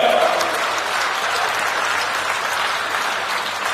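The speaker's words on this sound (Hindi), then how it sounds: "जोरदार तालियां बजा करके स्वागत कीजिए।" A loud crowd applauds steadily and densely to welcome a guest at a political address by Gajendra Singh Shekhawat, the clapping sustained and even throughout with no speech over it.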